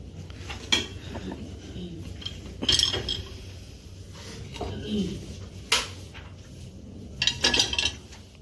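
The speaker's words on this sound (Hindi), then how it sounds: "ये हम ऐसे अपनी प्लेट्स को इसमें ऐड कर देंगे।" Plates are set into the angled rack of an LG dishwasher with scattered clinks and clatters of dishware, and a voice talks quietly in between.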